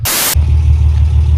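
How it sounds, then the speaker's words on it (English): Loud wind buffeting a microphone: a burst of harsh hiss, then a heavy low rumble that keeps roaring. "Sorry for the wind noises, guys. It's super windy today,"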